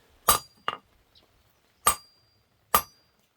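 Hammer blows on the edge of hot metal resting on an anvil, four bright ringing strikes at an uneven pace, each close and loud with a short metallic decay, and quiet between them.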